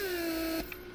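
A repaired vacuum pump for the door locks of a Mercedes-Benz S-Class W140 runs with a steady, close electric whine, then cuts off abruptly partway through, leaving a faint hiss.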